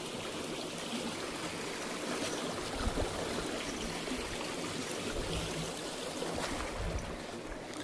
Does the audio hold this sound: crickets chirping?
no